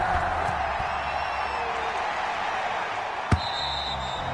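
NFL stadium crowd in a football video game, a continuous distant roar of murmuring fans under a commentator's voice, with a single sharp thud partway through.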